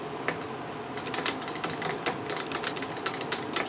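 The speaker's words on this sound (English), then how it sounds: "I'm going to stir with a micro spatula." Micro spatula stirring crystals in a glass Craig tube during microscale crystallization of sulfanilamide, giving rapid irregular clicks and light scraping ticks that grow busier toward the end, close and fairly faint.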